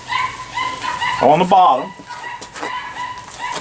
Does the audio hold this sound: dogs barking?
yes